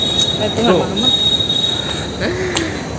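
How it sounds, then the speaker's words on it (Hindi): A train at the Bilaspur railway station platform gives off loud, shrill wheel squeals in overlapping bursts. Rumbling rail noise and faint voices from the platform sit underneath. "बिलासपुर के रेलवे स्टेशन।"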